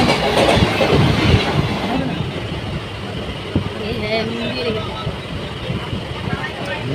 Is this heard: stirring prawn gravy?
no